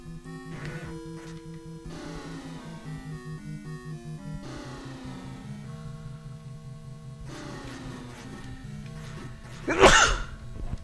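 A single loud sneeze bursts out near the end, over a background of The Legend of Zelda game music and humming tones.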